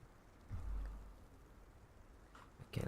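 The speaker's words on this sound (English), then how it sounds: "Oh, and it's raining now a bit." Light rain falls in the video game Hogwarts Legacy as a faint, steady patter that stays quiet and low throughout, with a soft swell early on and no voices.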